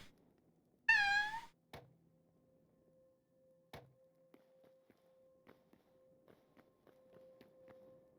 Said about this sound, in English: The cat only makes squicking noises.